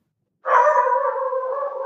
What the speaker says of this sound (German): Untermalt von meinem Hund.